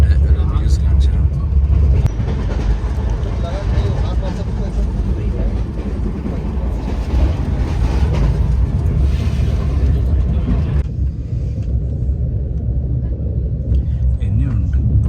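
A running train is heard from inside a second AC sleeper coach as a loud, continuous low rumble and rattle throughout, with a voice talking over it.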